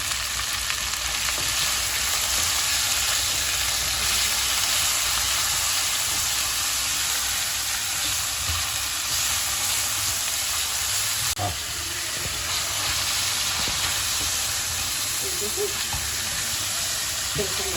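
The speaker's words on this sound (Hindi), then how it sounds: "चिकन की कीमे को भून रही हूँ खड़े मसाले में और अदरक लहसुन के पेस्ट के साथ" Minced chicken frying in a pan with whole spices and ginger-garlic paste, for a qeema chana dal fry. It makes a steady, dense sizzle and hiss that runs loud and unbroken throughout, with a few brief scraping stirs.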